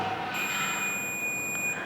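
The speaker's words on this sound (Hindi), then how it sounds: "उस पर अटैच करके देखूंगा तो बीप सुनेगा आपको" A multimeter in continuity mode sounds a steady, high-pitched electronic beep as its probes touch the copper winding of a magnet coil. The tone holds unbroken for almost two seconds.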